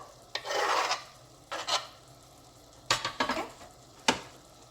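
A spoon stirs spinach, tomato and dal ingredients in a pot, giving several soft scraping, sizzling strokes in irregular bursts that are close and fairly quiet.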